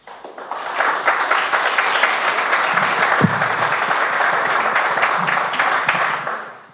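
Audience at a Brookhaven City Council District 2 candidate forum gives a full round of applause, a steady, dense wash of many hands clapping that swells quickly, holds for several seconds and fades at the end.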